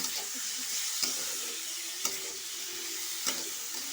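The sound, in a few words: stirring mango jelly pickle with turmeric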